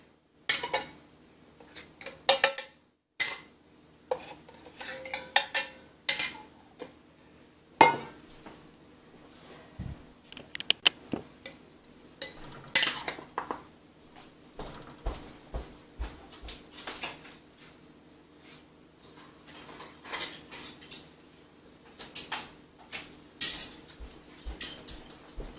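Metal canning jar lids and rings clink and clatter in scattered bursts, light taps and scrapes near at hand with quiet gaps between.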